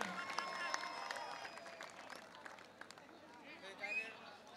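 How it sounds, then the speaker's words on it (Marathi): A crowd claps and cheers for kabaddi player Rahul Dhanawade at a village kabaddi tournament in Belapur. The steady applause rolls through the clip with a murmur of voices and some tonal background sound mixed in. "जोरदार टाळ्या राहुल धनवडेसाठी"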